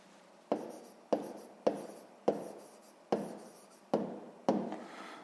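Seven sharp strokes of writing on a surface, evenly spaced about every half-second to second, each a quick scratch that fades out, close and alone in a quiet room.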